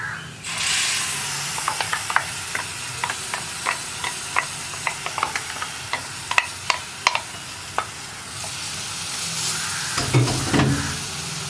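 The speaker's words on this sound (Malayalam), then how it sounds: "തക്കാളി പേസ്റ്റും കൂടി ചേർത്ത് നന്നായിട്ടൊന്ന് ഇളക്കി മിക്സ് ചെയ്യുക" Tomato paste is stirred into frying spice masala for a yam curry, a loud sizzle as it hits the pan followed by a steady run of spoon clicks and scrapes against the pan, then a renewed bubbling hiss, close with no talk.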